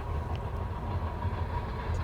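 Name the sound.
train passing by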